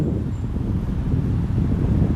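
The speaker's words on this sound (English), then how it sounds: "Slightly windy, but just because I'm on the hill." Low, steady wind rumble buffeting a bare, uncovered microphone on a hill, continuous throughout with no voices.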